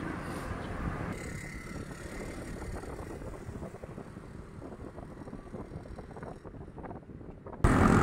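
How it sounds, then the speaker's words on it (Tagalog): Strong, cold wind buffets the microphone during a short ride toward UPLB, a steady broadband rush with gusty low rumble that eases slightly midway before a sudden loud burst at the very end. "Ang lakas ng hangin, ang lamig."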